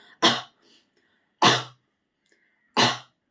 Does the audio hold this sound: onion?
no